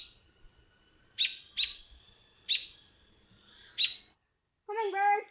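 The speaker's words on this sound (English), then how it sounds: "The birds are chirping." Wild birds on a summer homestead give a few sharp, bright chirps spaced about a second apart, then a short warbling call, moderately close against a quiet outdoor background.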